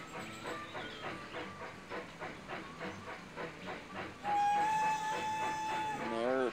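Railroad Tycoon 3 game train pulling out of a station: evenly spaced chuffs and clatter build steadily, then a loud sustained whistle tone sounds near the end.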